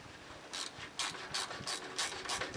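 A ratchet wrench clicks steadily while backing bolts out of a 1981 Suzuki GS850 motorcycle, close and distinct, in repeated bursts of rapid pawl clicks with no talking.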